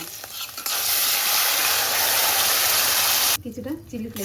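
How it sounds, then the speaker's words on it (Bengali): Tomato paste for a creamy restaurant-style pasta sauce fries and is stirred in a pan with oregano, a steady loud sizzle running unbroken for several seconds, with brief voice and clatter before and after. "পেস্টটাকে ভালোভাবে কষিয়ে নিচ্ছি"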